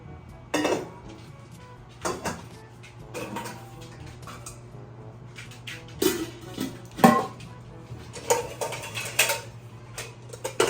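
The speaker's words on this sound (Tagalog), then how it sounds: "Tapos sa ilalagay na po natin ating mga kaldero." Several clattering knocks of metal pots being set down and shifted, irregular and fairly close, over a steady low hum.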